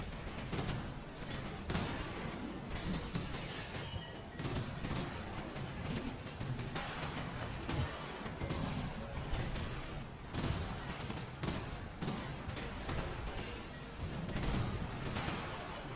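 Dense, continuous barrage of game explosions and gunfire, booming and crackling without pause throughout, with no voices.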